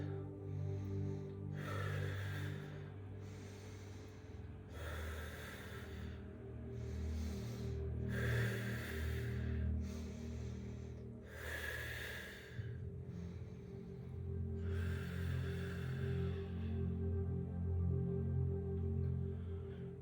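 Slow, deep breaths drawn in and pushed out during a yoga core flow, about seven soft airy exhales spaced a couple of seconds apart, close and quiet over a low steady hum.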